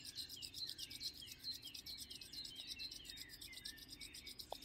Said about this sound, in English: rubbing your hands can help to ease some of those symptoms